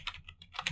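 Computer keyboard typing while entering a command into a shell, a quick close run of crisp keystrokes over less than a second, with no voices.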